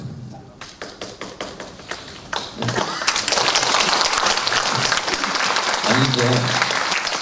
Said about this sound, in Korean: 지금 박수 칠 타임이 아니에요